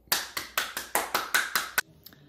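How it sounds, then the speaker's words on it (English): About seven sharp hand claps in an even, steady rhythm, close and loud, each clap ringing briefly before the next, stopping abruptly with quiet afterward. "We clap for you."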